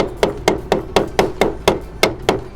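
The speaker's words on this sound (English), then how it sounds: "with the hammer, hit the wood" Nine sharp, evenly spaced hammer blows on a wooden block held against a trailer hub, loud and close, keeping a steady rhythm of about four strikes every second.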